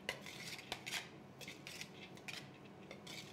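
A dressing of homemade elderberry vinegar whisked or stirred in a bowl, faint rapid clinks and scrapes of utensil against dish in quick bursts, quiet and close, with no speech.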